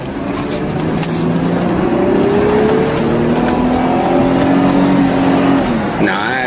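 An Audi 80 Cabriolet convertible accelerates steadily while driving, its engine note climbing in pitch over several seconds as it pulls, with a voice talking over the loud, continuous interior drone.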